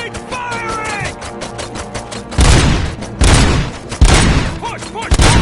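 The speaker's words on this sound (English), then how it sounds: "Suspects are resisting! Keep firing!" Gunfire bursts in the shooter game RoboCop: Rogue City, loud volleys and booming shots arriving in clusters, mixed with shouted voices and game sound effects.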